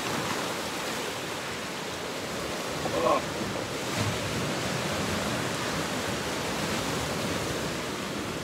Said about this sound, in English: There's some decent waves coming in.